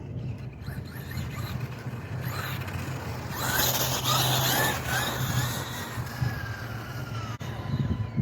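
A Kyosho Mad Van RC car running on a 3S battery: a whining electric motor and drivetrain buzz that swells and holds steady near the mic, with a low rumble underneath throughout.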